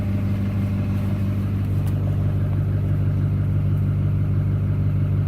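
A vehicle engine fitted with a DIY filter mod idles steadily with a slight lope, a continuous low-pitched rumble that stays close and even throughout with no talk.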